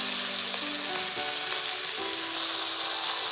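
Chopped onion and capsicum fry in hot oil in a pan for a Bengali-style chili soybean dish, giving a loud, continuous sizzle with faint stirring scrapes throughout.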